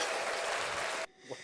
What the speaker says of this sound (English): It was the applause.